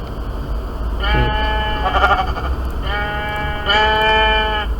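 Several sheep bleats in Minecraft, bright and nasal, in quick succession over a low steady hum, with no talking.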